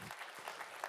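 Brief burst of applause from an audience at a high school athletics parent meeting, a soft wash of clapping heard from a distance.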